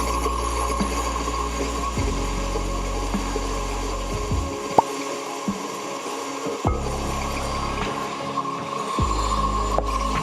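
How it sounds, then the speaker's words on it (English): An electric mixer runs at medium speed, beating cake batter for a black sesame and white chocolate mousse cake as dry ingredients and milk are added; a steady motor whir with light mechanical clatter continues for about ten seconds, with no talking. "So I'm going to turn my mixer on to a medium speed."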